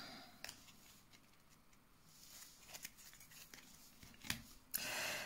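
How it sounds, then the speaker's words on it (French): A deck of tarot cards being cut and shuffled by hand, with soft rustling card snaps and flicks, a few sharper riffle clicks, and a denser burst of card noise at the end, close and fairly quiet. "Allez, on va couper le jeu."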